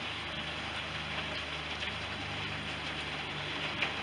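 Steady rain patters on a surface outside a kitchen at a rural preserve on a wet day, a dense, even hiss with no break and no voices.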